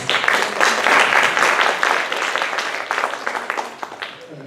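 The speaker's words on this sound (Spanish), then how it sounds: "Un fuerte aplauso para Mario Alberto" Audience applause for a speaker at an international conference on death studies, a dense, steady wash of clapping from a crowd that holds strong for several seconds and then thins slightly toward the end.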